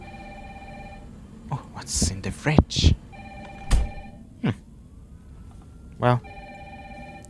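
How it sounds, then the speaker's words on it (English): A telephone rings in the game Resident Evil 3 Remake, with repeated bursts of an electronic ring sounding at intervals across the clip while a person talks over it in between. "Oh, the phone's ringing."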